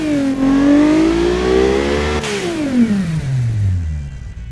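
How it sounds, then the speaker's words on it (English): An Alfa Romeo Giulia 2.9L engine, reworked to make 311 horsepower on low-quality fuel, revs hard, rising then dropping in pitch as it winds down, loud and close with no talking. "I can use low quality fuel and the engine will fire up no problem"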